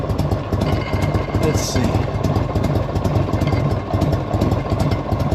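A 1984 Harley-Davidson motorcycle engine idling nearby in cold weather, a loud steady low throb with rapid uneven pulsing, a brief voice speaking over it.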